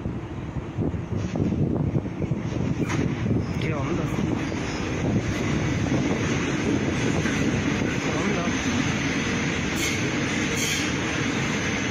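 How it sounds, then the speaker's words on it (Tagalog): A train passes through an empty station in Mexico, a loud, continuous rumbling roar with clattering wheels and gusts of wind buffeting the microphone, sustained steadily for the whole stretch. "Maririnig sa video ang tunog ng tren na tila malapit lang kay Ricardo."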